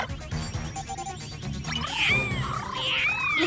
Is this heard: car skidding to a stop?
no